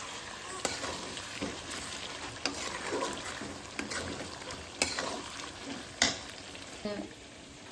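Food fries in a pan beside chicken cooking, a constant close sizzle with soft stirring scrapes and a few sharper clicks of a utensil against the pan, fairly quiet, with no talk.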